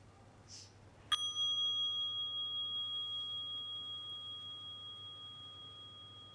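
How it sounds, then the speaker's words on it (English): A single meditation bell struck once to open a mindful minute in a high school class, its clear ringing tone sustaining and slowly fading over several seconds in an otherwise quiet room. "I'll start by ringing the bell."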